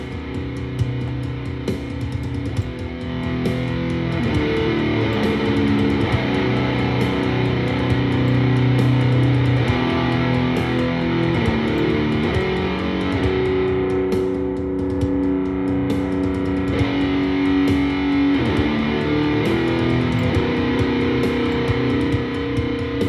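Heavily distorted electric guitar lead tone shaped by the JST Toneforge Jeff Loomis amp plugin, playing a steady sustained passage with held notes and chugging lines, loud and dense throughout with no talking.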